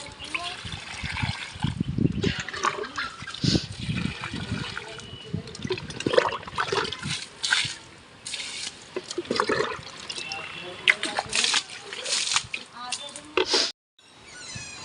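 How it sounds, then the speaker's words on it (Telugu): Water is poured onto garden plants and freshly planted crossandra in a home yard, arriving in uneven splashing and trickling bursts with short pauses, fairly close, ending in a brief silence. "అలాగే అక్కడ మొక్కలకి నీళ్ళు అయితే వేస్తానండి."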